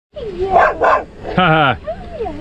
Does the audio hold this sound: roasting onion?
no